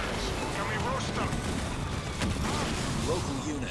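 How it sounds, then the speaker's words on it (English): Gunfire in the strategy game Halo Wars 2, dense rattling fusillades and distant booming blasts throughout, with talk over the battle noise. "Ready to fire some gunshots."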